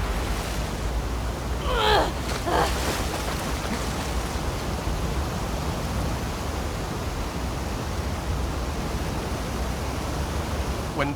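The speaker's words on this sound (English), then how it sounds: "it remained in essence in the section swimming to the aquarium as Ellie when you were avoiding the waves" Water surges steadily as a swimmer moves through waves in the video game The Last of Us Part II. The broadband rushing wash is constant and loud, with a brief splashy swell near the start.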